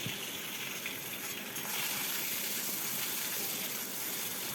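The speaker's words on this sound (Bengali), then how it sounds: "আমি এর মধ্যে দিয়ে দিলাম ভেজে রাখা পটলগুলো" Fried pointed gourd pieces dropped into hot oil with a reddened spice tempering, setting off a steady, even hiss of sizzling that carries on without a break.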